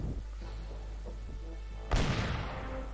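Cannon fire in the PC game The Curse of Monkey Island: a low rumbling backdrop, then one sudden heavy boom near the end that rings out loudly.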